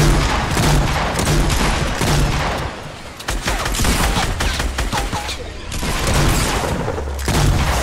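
Dense rapid gunfire and explosive booms from a Fortnite match, loud and nearly continuous bursts that ease briefly in the middle before resuming, with no talk over them.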